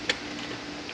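A single sharp metallic tick as a snap ring seats in the compensator of a 1962–1963 Roto Hydramatic transmission, close and brief against a quiet room.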